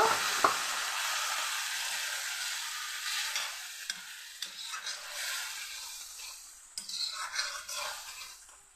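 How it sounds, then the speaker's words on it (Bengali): Coriander powder frying with a little water in a pan for a rohu fish curry: a steady hissing sizzle throughout, broken by scattered scrapes and clicks of stirring, busier near the end. "সামান্য পরিমাণ ধনে গুঁড়ো অল্প কিছুটা জল দিয়ে আমি ভালো করে ভেজে নেব"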